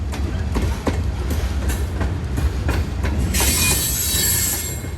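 A heavy CSX freight train with cars loaded with rock and railroad ties rolls past close by on a tight curve, wheels clicking in a steady rhythm over rail joints, with a rising metallic squeal near the end.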